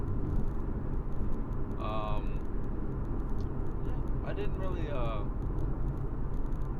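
Steady low road rumble fills a car cabin on a cold morning drive behind a bus, with someone talking close over it throughout.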